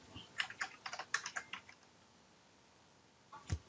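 Fingers enter a username and password on a computer keyboard, giving a quick run of soft, close key taps, then a pause and a final pair of keystrokes.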